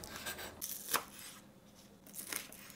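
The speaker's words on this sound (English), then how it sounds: "Cut the green onions." A knife slices green onions on a board, giving a few faint crisp chopping and tearing cuts with a sharper snap near the middle, close and quiet in a home kitchen.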